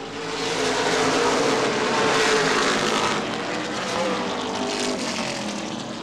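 Late model sportsman race cars at speed on the Angola Motorsport Speedway oval during a 40-lap ICAR event, a loud, continuous roar of multiple engines that swells and eases as the pack passes, with no talk heard.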